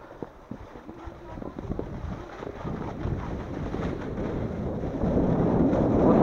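Snowboard run downhill on a snowy slope, filmed first-person without a helmet: steady wind buffeting the microphone with low rumbling board scrape, growing louder and rougher toward the end, no talking.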